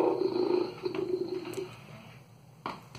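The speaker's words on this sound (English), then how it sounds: "The tiger is roaring at Versace." A captive tiger near a Savannah kitten gives a low, rumbling growl that swells early and trails off, followed by a softer rustle and a brief sharp noise near the end, heard close and fairly quiet.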